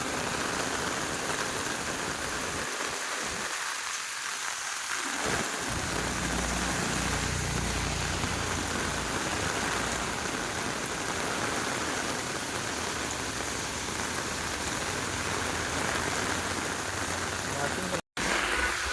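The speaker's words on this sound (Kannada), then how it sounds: "ಹೆವಿ ರೈನ್ ಬರ್ತಾ ಇದೆ ಮಾತ್ರ" Heavy rain in Bengaluru pours steadily in a dense, loud hiss throughout, with voices faintly audible beneath it at times.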